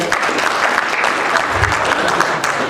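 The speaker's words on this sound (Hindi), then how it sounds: "जोरदार तालियां हो जाए सर के लिए।" Loud audience applause fills a hall at a direct selling seminar, steady dense clapping sustained throughout with no voices over it.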